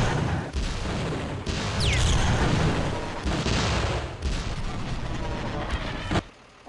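Heavy booming blasts from a kata cannon in the shooter game Gunman Chronicles, several loud, close explosive bursts in a row over a rumbling roar, with a brief voice under the din.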